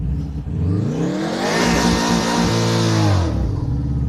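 A turbocharged Subaru WRX engine revs hard for a neutral drop launch on grass, climbing in pitch and holding a loud high whine before dropping off, with no voices.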